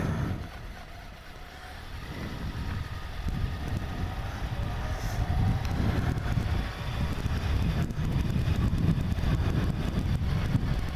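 A 1990 Honda CBR1000F motorcycle engine idling cold, a steady low rumble heard up close and outdoors, with wind buffeting the microphone throughout.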